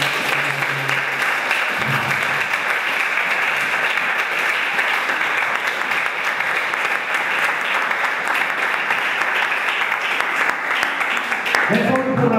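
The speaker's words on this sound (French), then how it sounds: "Est-ce qu'on peut acclamer très fort?" A church congregation claps and cheers loudly in sustained, dense applause that fills the room for over ten seconds, with a voice briefly heard at the start and a speaker cutting in at the end.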